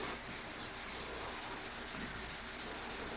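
A scuff pad is rubbed by hand across the painted hood of a lowrider mini car, a continuous close, soft rasping hiss at an even level throughout, with no speech.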